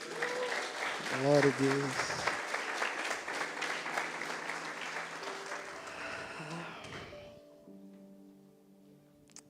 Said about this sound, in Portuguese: Aplaudir Jesus, amém?